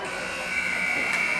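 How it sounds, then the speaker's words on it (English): The final buzzer sounds at a girls' high school varsity ice hockey game, a steady harsh electronic drone over arena crowd noise, with a commentator talking over it. "There's the final buzzer."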